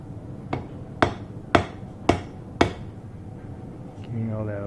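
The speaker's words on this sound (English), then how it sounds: "a little pounding here. Bit on the anvil" Five sharp, evenly spaced hammer blows ring out on an anvil as a hot naginata blade is forged, close and loud, followed by a low rumbling roar at the end.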